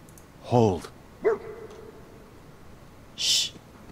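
A dog in Fallout 4 gives a short bark, then a drawn-out whine, then after a pause a sharp high yip, all close and clear against a quiet background.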